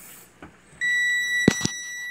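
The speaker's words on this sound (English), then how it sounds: "So that alarm is ringing, shouldn't be ringing." A microwave's faulty alarm sounds a steady high-pitched electronic tone continuously with the door closed, with a couple of brief thuds like a door closing partway through.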